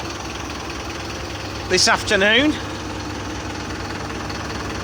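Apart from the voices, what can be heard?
Mercedes-Benz Vario 0.816d Plaxton Cheetah coach engine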